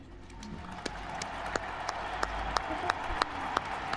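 A crowd applauds in tribute to Johnny Hallyday at his public homage, a steady wash of clapping with sharper individual claps rising out of it at intervals.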